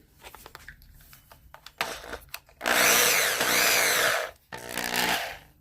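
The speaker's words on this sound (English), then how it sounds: "I'm going to drill a small hole like this" A corded Craftsman power drill bores a small hole during an outlet rebuild, whirring loudly for about two seconds, pausing briefly, then spinning again, after a few clicks and handling knocks.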